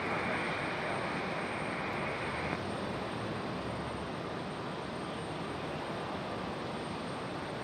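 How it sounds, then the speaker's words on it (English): Southwest airliner from Houston touching down at Raleigh-Durham International, a steady loud broadband engine roar filling the whole stretch with no letup. "Southwest touching down smoothly from Houston."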